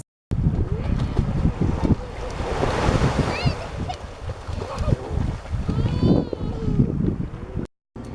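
High ocean surf on the Baja coast roars and crashes continuously, loud and close, with wind buffeting the microphone and a voice speaking faintly under it.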